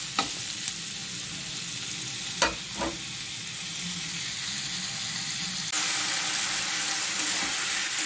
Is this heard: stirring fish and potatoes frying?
yes